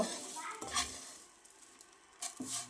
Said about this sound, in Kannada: ಬೇವಿನ ಸೊಪ್ಪು, ಬೆಳ್ಳುಳ್ಳಿ, ಒಣಮೆಣಸೆಲ್ಲ, ಹಸಿ ಮೆಣಸೆಲ್ಲ ಚೆನ್ನಾಗಿ ಫ್ರೈ ಆಗಿದೆ